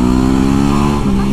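A motorcycle accelerates hard, its engine note loud and close, a strong buzzing whine that climbs briefly in pitch.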